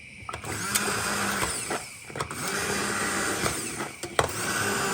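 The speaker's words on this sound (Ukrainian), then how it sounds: "перебиваю блендером" A blender whirs steadily in bursts while pureeing softened cooked tomatoes, its motor briefly dipping and rising a few times over several seconds, with no voices.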